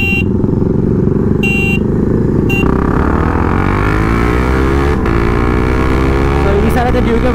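Tuned KTM Duke 390 and tuned Royal Enfield GT 650 motorcycles drag racing, engines revving hard through the gears in a loud, continuous roar with rising and falling pitch as they accelerate past nearby.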